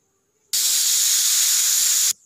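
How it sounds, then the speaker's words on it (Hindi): A pressure cooker, cooking drumstick pods as a vegetable curry, releases one loud, steady hiss of steam through its whistle for about a second and a half, starting and stopping abruptly after a faint tone. "प्रेशर कुकर की 1 सीटी आ गई है"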